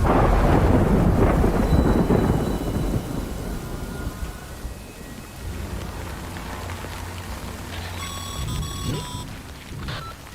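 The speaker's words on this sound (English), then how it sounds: "Good thing it was raining." Heavy rain and a loud thunder roll open a stormy scene in the video game Death Stranding, then fade to a softer patter as electronic beeping tones and a low drone enter.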